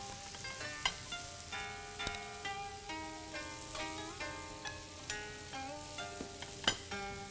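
Butter and beef sizzling on a teppanyaki griddle, a steady close frying hiss with clinks and scrapes of metal utensils ringing over it.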